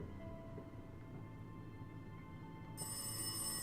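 Telephone ringing in the horror game Rise of Insanity, a faint electronic ring with steady tonal lines over a low background hum, growing brighter and louder near the end, with no talk.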